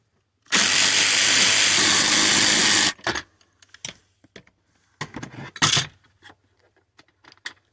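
A power tool spins for about two and a half seconds, loosening a dashboard bolt inside a 2000–2004 Subaru Legacy/Outback. Sharp ratchet clicks and tool clatter follow in short, separated bursts, close and loud.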